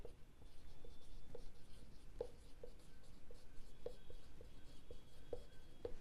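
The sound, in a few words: writing with a pen on paper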